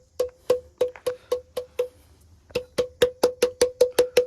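Stones at a Shiv temple struck to give damru-like drum hits: sharp, resonant knocks in a quick, even rhythm, about seven, a short pause, then a faster run of about ten, close and loud with no talking.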